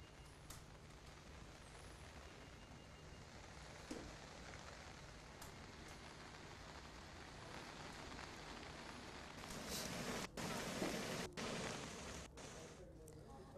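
Continuous monsoon rain around villages near Alwar, Rajasthan, a steady hiss of falling rain with occasional louder splashes, faint and distant throughout.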